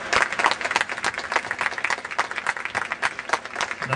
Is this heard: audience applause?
yes